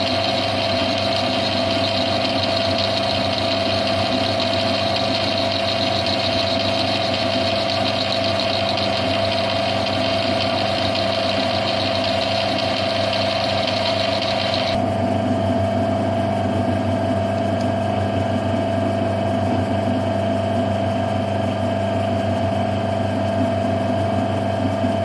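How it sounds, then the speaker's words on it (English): A metal lathe bores a hole to size with a carbide boring bar for a spline shaft in a hand drill speed reducer, a steady loud machine hum and whine that drops in tone partway through, with no talk. "A carbide boring bar is used to bring the hole for the spline shaft to size."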